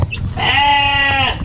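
A single goat lets out a long, loud, close bleat lasting about a second near goat pens in a village, over a low background rumble.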